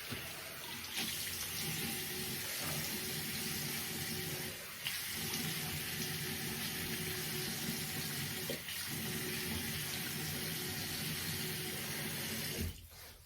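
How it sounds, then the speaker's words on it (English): Cold water runs steadily from a tap for a rinse before shaving, a continuous close hiss and splash with a few brief interruptions and a sharp knock near the end. "So cold water rinse before I lather up."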